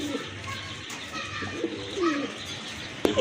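Soft, low coos from a pair of pigeons come in short repeated phrases close by, mixed with light rustling and a sharp tap near the end.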